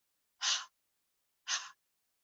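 A voice imitates a dog panting, voicing the letter H sound as two short, breathy huffs about a second apart, close and alone.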